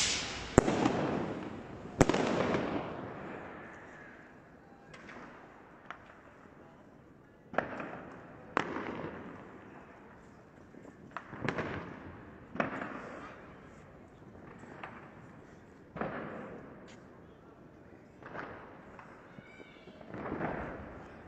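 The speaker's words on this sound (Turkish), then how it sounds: "orada çocuklar da ufak patlayıcılar atıyor." Small firecrackers thrown by children on New Year's Eve in Vienna, about a dozen sharp bangs at irregular intervals, each echoing and fading in an open street, some closer and louder than others.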